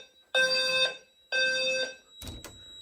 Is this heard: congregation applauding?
no